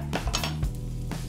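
Spring onions tossed into a frying pan with nearly glassy onions while cooking an avocado chicken salad, giving a short clatter of pan and utensil with light stirring, close and fairly loud.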